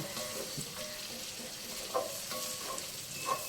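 Ridge gourd frying with browned onions in a pan, a continuous gentle sizzle with occasional stirring scrapes and clinks, quiet and close.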